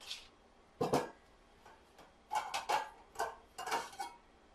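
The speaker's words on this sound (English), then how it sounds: "let's bring our big pot over" A big cooking pot shifted across a kitchen during French onion soup making, giving several separate metallic clanks and scrapes spread over a few seconds, moderately close with quiet gaps between.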